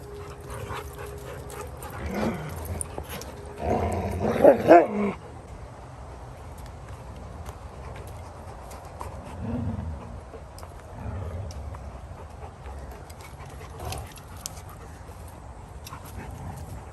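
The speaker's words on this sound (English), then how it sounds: "Look, I know that dogs play rough, and it's fine." Two dogs play rough, tackling each other, with growls and scuffling that peak in a loud burst a few seconds in and then fade to a lower rumble, with brief quieter moments later.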